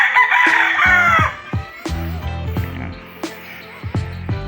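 A young white leghorn rooster crows loudly at the start, then white leghorn hens cluck and squawk nearby in a backyard in scattered bursts, with occasional knocks and shuffling.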